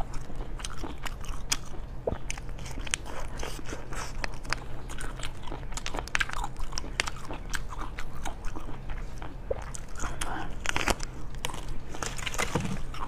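Spicy-flavoured jelly dessert being bitten and chewed close to the mic in an ASMR mukbang, with steady wet crunching and squelching bites running throughout, no talking.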